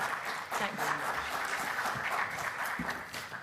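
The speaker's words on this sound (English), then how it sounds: "a big round of applause" A conference audience gives a big round of applause, a steady wash of many hands clapping at moderate distance, with a voice speaking over it.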